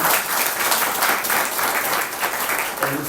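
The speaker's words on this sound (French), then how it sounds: "nous pouvons les applaudir encore pour l'accueil dans le nom du Seigneur" Church congregation applauding to welcome visitors during a service, a loud, sustained burst of many hands clapping close by, steady throughout with a faint murmur of voices underneath.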